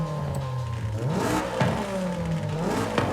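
Stock car engine in Forza Horizon 5 revving up and down through several rising and falling sweeps, a loud, steady mechanical drone with no talk over it.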